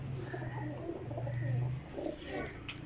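High-flyer pigeons coo in low, rolling, repeated calls close to the microphone, with a few soft chirps and no talking over them.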